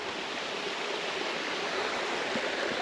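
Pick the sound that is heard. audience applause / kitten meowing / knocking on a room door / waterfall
waterfall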